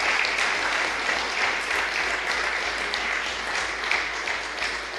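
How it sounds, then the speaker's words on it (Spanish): An audience at a state universities council event gives a loud, continuous round of applause for the Senate president, Carlos Montes, with dense clapping that stays steady for several seconds and has no speech over it. "Quiero pedirles que los recibamos con un fuerte aplauso al presidente del Senado"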